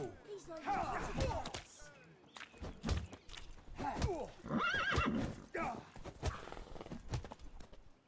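In The Witcher 3, the horse Roach gallops with quick clip-clopping hooves, snorting and whinnying up close amid game sounds while a person talks over it.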